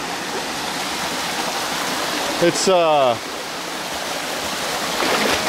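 Steady broadband rush of a jungle waterfall in Colombia plays close and continuous, with a brief voice speaking over it midway.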